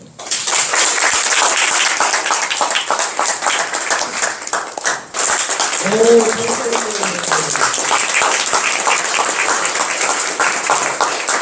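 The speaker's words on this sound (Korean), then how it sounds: "자, 박수로!" An audience bursts into sustained, loud applause after a theatre monologue reading, steady dense clapping filling the room with a brief dip midway, and a voice speaking briefly underneath.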